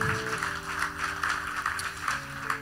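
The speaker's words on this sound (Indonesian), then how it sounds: "Berikan tepuk tangan buat Tuhan" Applause from a church congregation at a worship service: a steady, dense patter of many hands clapping together over sustained music, lasting a few seconds with no break.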